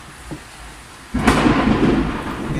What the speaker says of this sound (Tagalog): kasi kumukulog